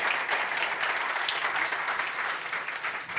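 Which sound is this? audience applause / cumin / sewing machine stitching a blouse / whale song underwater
audience applause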